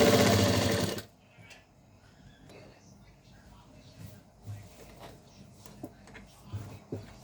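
Sewing machine stitching a fabric lining into a garment seam, a loud steady burst at the start that stops after about a second, followed by quieter handling clicks and light rustling.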